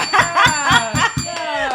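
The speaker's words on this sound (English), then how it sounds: "I had to get the bell, y'all." A handbell rings loud and close in about six quick strokes, each leaving a bright ringing tail, on a live talk show.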